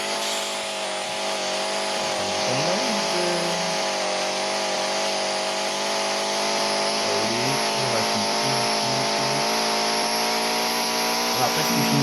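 A race car in the Car Dealership Tycoon game drives a circuit, its engine droning steadily and loudly throughout with slight pitch shifts as it accelerates and shifts, a continuous whine without pauses.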